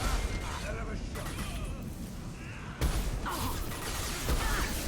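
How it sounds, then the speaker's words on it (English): Explosions rip through combat in the video game Mass Effect 2, a dense, loud barrage of booming blasts and crashing debris, with fresh bursts hitting near the three- and four-and-a-half-second marks. "More explosions."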